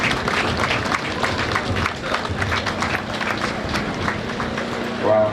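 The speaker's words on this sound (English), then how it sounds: "Give a round of applause." Audience applause at an airport renaming ceremony, a dense sustained wash of clapping from a crowd, loud and continuous throughout, with some voices mixed in.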